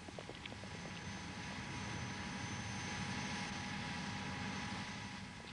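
Steady, loud engine drone fills the cabin of a weightlessness training aeroplane during a zero-gravity flight for astronauts, a continuous broadband roar with no speech.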